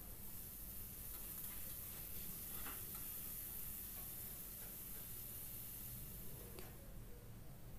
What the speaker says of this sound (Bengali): অল্প অল্প করে এইভাবে ছাঁকা তেলের মধ্যে ভাজতে হবে। তো দ্বিতীয় ব্যাচটাও আমি একই পদ্ধতিতে ভাজা করে নিচ্ছি।